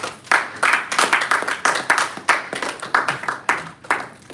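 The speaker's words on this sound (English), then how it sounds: "Please, another round of applause for Toastmaster Francis." A Toastmasters club audience claps at a meeting in the EKO Hotel, Victoria Island, Lagos, a steady run of close, crisp hand claps in uneven bursts with no voices over it.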